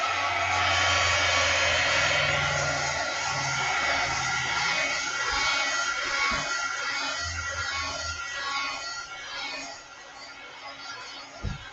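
A hair dryer blows continuously to dry layers of paint on a wallpaper mixed-media journal cover, a loud, steady airy roar that dips slightly toward the end, with a few faint knocks underneath.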